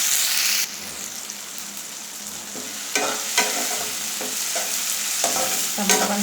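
Tomatoes fry in a pan with a steady sizzle, while repeated scraping stirs and clatters over the hiss. The frying stays close and fairly loud throughout.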